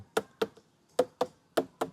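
Knuckles rap on a Crimson Red watermelon in six sharp, hollow knocks, evenly spaced in pairs, close and clear against a quiet background.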